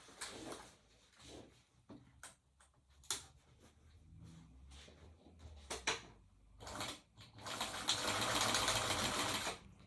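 An old sewing machine stitches fabric for a drawstring bag in short mechanical bursts. Its chatter builds into one longer, steady run near the end.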